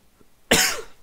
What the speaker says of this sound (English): Sorry for my coughs. I know it maxes out the mic a little bit.